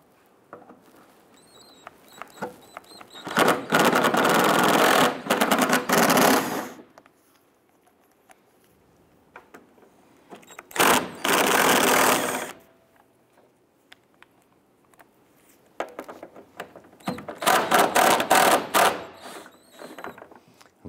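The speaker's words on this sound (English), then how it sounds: "We want to go ahead and use our 8 millimeter socket. We want to go ahead and remove the three screws." A power driver with an 8 millimeter socket backs out screws from a Chrysler 300 bumper, three separate bursts of loud, rattling whirring, each lasting one to three seconds, with quiet gaps between.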